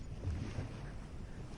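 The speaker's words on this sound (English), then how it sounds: "steady growl of the engine down below beneath your feet" A fishing boat engine rumbles low and steady at sea, a soft continuous drone mixed with wind noise, faint and without voices.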